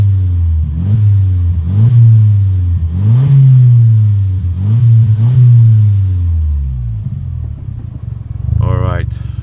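An Audi S3 8L engine revs repeatedly, close and loud, rising in about five rhythmic throttle blips before settling to a deep idle rumble.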